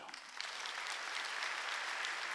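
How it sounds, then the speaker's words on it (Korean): A church congregation at a Wednesday worship service applauds steadily, a dense wash of clapping that swells quickly and holds, fairly distant and unbroken. "이 사람의 박수 좀 쳐줘요."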